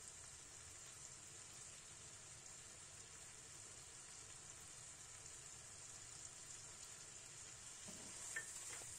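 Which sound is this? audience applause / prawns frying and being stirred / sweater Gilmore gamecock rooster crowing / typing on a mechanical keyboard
prawns frying and being stirred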